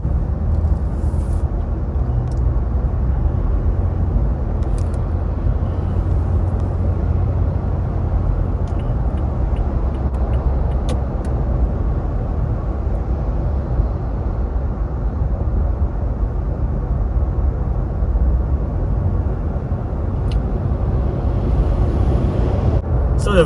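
A 2021 Toyota Tacoma TRD Off Road rolls along on Laufenn X FIT HT tires, heard from inside the cab as a steady, loud low rumble of road and engine noise, with no talking.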